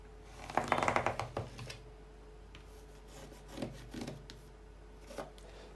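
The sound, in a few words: drawing lines to connect marks on fabric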